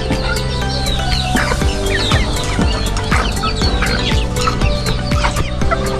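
A flock of native chickens clucking loudly and continuously up close, with many overlapping clucks and chirps forming a busy, dense chorus with no talking.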